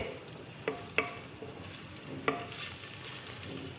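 Onions brown in a pan for chickpea curry, giving a quiet, steady sizzle with three or four distinct spoon scrapes and taps against the pan.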